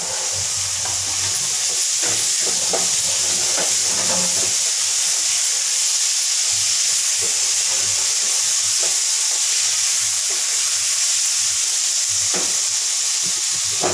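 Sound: tomatoes frying with masala in a pan

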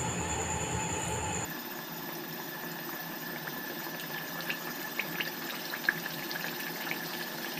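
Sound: moong dal kachori frying in hot oil

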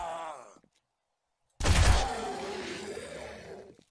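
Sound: rapid gunfire in video game 7 Days to Die

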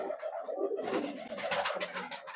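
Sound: high flying pigeons cooing in a loft

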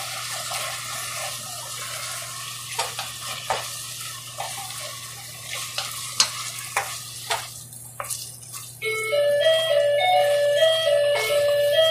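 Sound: stirring tuna mushroom spaghetti sauce in a pan

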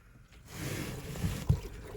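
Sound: water spraying and trickling on car

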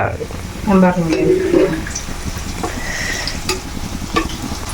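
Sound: parippu vada lentil fritters frying in oil in a pan

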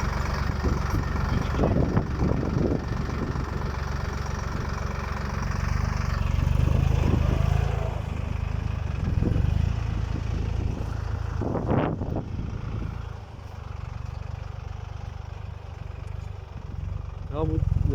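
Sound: Başak 2060 tractor engine running with disc harrow

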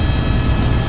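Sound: helicopter flying over Niagara Falls

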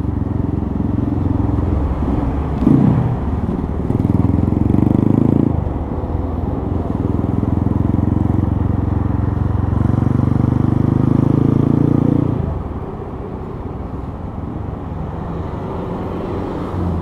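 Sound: Honda Mega Pro motorcycle with Tiger Revo exhaust riding

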